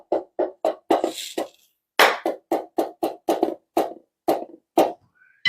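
A Donner practice drum pad with its ball box fitted, struck in a steady run of about twenty sharp, close, dry hits with brief pauses and one short rattly burst.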